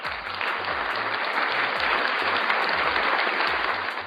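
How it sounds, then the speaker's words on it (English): Canned applause played from a soundboard button, a steady, even burst of crowd clapping lasting about four seconds with a low, muffled rhythmic thump underneath, no talking. "That's supposed to be an applause button."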